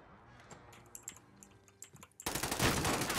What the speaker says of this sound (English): Don't walk in front of me when I'm shooting.